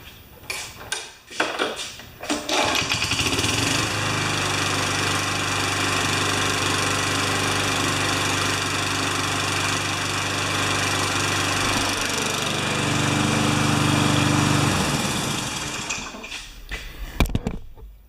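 An old Tecumseh 3.5 HP mower engine on an MTD frame sputters to life, then runs at a steady loud droning idle with rattling metallic overtones before cutting out near the end.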